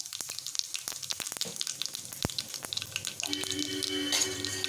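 Mustard seeds and cumin hit hot oil in a pan for masala curd, giving sharp scattered crackles and pops that settle into a steadier, brighter sizzle toward the end, close and without speech.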